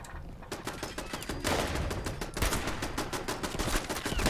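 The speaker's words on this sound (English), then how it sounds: "Why are you shooting at me, turrets?" Automated turrets fire on the player in Fallout 76, rapid bursts of gunfire clattering close and loud in a steady machine-gun rhythm, intensifying partway through with no talking.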